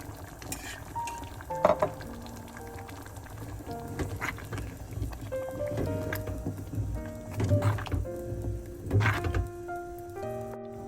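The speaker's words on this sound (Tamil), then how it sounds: "இனிமேல் இந்த பொங்கலுக்கு தேங்காய் பாலை சேர்ப்போம்" Coconut milk going into simmering millet pongal, with a soft bubbling and gentle sizzle under several sharp utensil clinks and stirring knocks, close and fairly quiet, with no talking.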